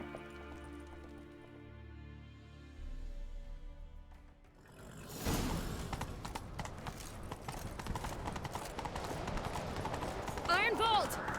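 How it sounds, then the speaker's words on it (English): Hooves of a galloping horse in The Witcher 3 video game pound in a fast, steady clip-clop rhythm, loud and close, after a stretch of game music and with brief character voices over the ride. "Grab a horse, we'll chase him down."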